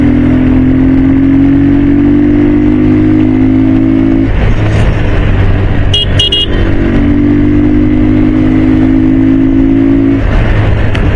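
A loud motorcycle engine, not started for 2-3 days, revs up in rising pulls, drops back, then revs again, with a brief high horn beep in between.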